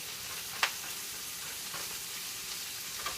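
Kale and spinach wilt down in a pan with a soft, steady sizzle, broken by an occasional sharp tap of a spatula, quiet and close.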